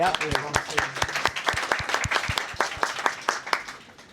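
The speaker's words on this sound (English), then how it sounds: "Can we give a round of applause to" Audience applause at a game jam award ceremony, a dense patter of claps with crisp individual hits throughout, fairly close and lively, with some voices mixed underneath, tapering off at the end.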